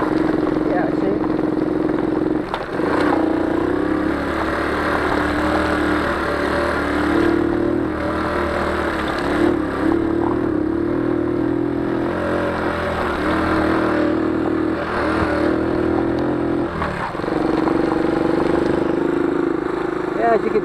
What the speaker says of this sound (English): this bike should be able to pull me up a small incline in second gear